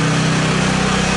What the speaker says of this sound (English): Turn the pump off.